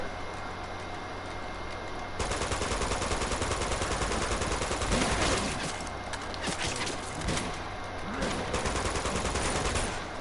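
Minigun fire in the video game Uncharted 2: Among Thieves, a loud sustained rapid rattle that runs almost without pause over dense game noise.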